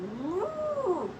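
A person gives a short, rising-then-falling mooing imitation of a cow, a single drawn-out vocal call.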